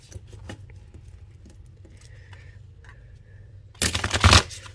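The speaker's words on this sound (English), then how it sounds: "let's give it a good shuffle." Quiet scattered card handling and light taps, followed near the end by a brief, loud riffling burst of cards being shuffled.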